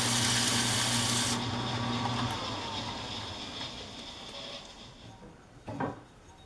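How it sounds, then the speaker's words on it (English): A piece of sandpaper rubs over wood in steady, close strokes, a soft continuous scratchy rasp that fades gradually, with a brief sharper scrape near the end and no talk. "there was a piece of sandpaper here"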